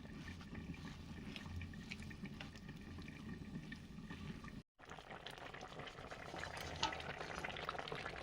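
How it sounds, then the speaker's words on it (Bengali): Gravy for a Bengali fish curry bubbling steadily in a pot, a dense continuous simmer with low rumble and hiss that stops for a moment and then carries on. "ঝোল তো ফুটছে।"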